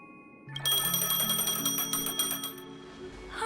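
A phone rings in Honkai: Star Rail, a bright electronic trill with layered ringing tones that starts abruptly and repeats steadily for a few seconds, loud and alone before fading.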